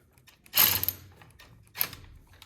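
Two short mechanical ratcheting bursts, close and crisp, as a tool tightens the brake lever on a two-stroke Yamaha Banshee, separated by a brief quiet pause.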